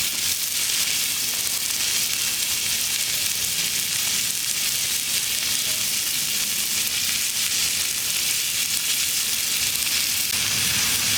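A ribeye steak sears on a hot shovel in a loud, steady, unbroken sizzle with a crackling hiss that holds evenly throughout and no one speaking.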